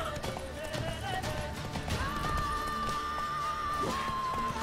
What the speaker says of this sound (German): Pferdepanik geht gerade ganz schön hoch.